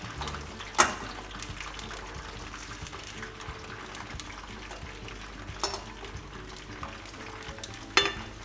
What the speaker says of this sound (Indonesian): Pertama, kita goreng bawang dan cabenya setengah matang